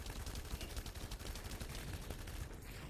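Rapid gunfire in the shooter game The First Descendant, dense repeated shots rattling continuously, distant and faint within a busy battle din.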